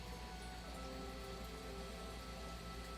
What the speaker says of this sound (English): The rain was beginning to let up, but it seemed though Thor wasn't ready for his fun to come to an end yet.